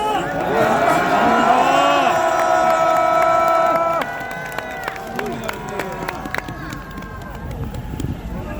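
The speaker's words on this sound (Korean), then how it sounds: "함성 한번 질러주십시오" A large rally crowd outside a train station roars and shouts, loud sustained cheering that eases partway through into scattered calls and whoops, with a voice speaking over the noise.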